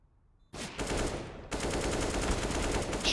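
Rapid automatic gunfire in CS:GO, beginning abruptly after a short quiet moment and running as a loud, steady stream of shots, with a second burst kicking in partway through.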